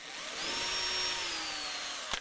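Electric drill widening a screw hole in a Saga Bristol acoustic guitar, a single steady whine running for about two seconds, close and loud, ending with a sharp click as it stops.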